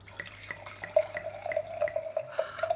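Light, fruity Beaujolais red wine being poured into a glass, a soft, close trickle with quick glugging bubbles rising in pitch over a few seconds, with no voices.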